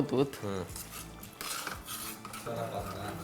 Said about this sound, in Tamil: இப்போ எடுத்து அப்படியே பவுலில் ஊற்றிட்டா? ஊற்று.